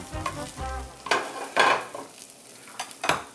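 Breaded chicken for chicken parmesan sizzles in a frying pan, punctuated by scraping and stirring clatter from a utensil against the pan, in short bursts close by.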